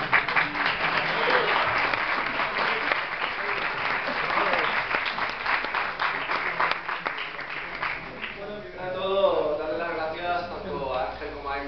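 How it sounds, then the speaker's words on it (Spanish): An audience at an award ceremony in the Sala Artistic Metropol theatre in Barcelona claps in a sustained round of applause that fades out, followed by a person starting to speak. "Un aplauso."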